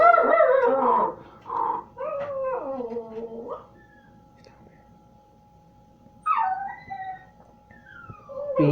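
A puppy whimpers and howls in drawn-out, wavering cries, fairly close, followed by a quiet pause and then two more short whiny yelps near the end; a person's voice may be faintly present.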